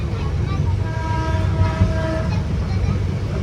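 The Darjeeling Himalayan toy train rumbles steadily along the mountain line from NJP to Darjeeling, with a continuous low mechanical drone and a faint tonal whine, close and constant throughout.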